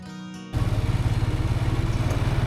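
A motorcycle rides a mountain road. After a brief quieter moment, its engine suddenly comes in close and loud as a rapid, pulsing throb that holds steady to the end.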